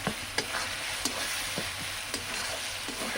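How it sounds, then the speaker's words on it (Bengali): Ginger and garlic frying with chilli in a pan for green coriander chicken, a steady close sizzle with occasional stirring clinks and scrapes, no voices. "আদা রসুন দিয়ে একটু ভালো করে ভেজে নেব।"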